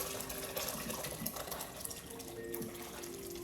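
Liquid is poured into a cooking pot while making clam chowder, making a continuous splashing, trickling pour that holds steady at moderate loudness.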